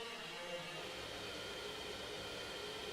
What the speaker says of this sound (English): It's just a very stretched crash.